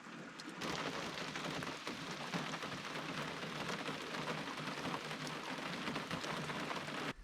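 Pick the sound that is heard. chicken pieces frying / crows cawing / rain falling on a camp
rain falling on a camp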